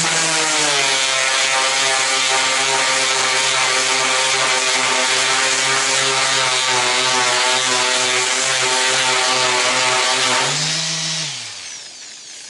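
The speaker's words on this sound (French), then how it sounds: "Et je finis avec la ponceuse" A power sander works the metal door of a Citroën Traction 11B car with a loud, steady whining drone up close, then spins down and fades out at the end.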